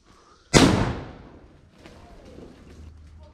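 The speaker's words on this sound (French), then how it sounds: "Première qu'on va tenter, grenade flash." An airsoft flash grenade goes off with one sudden, loud bang that fades into a decaying rumble, followed by faint background noises.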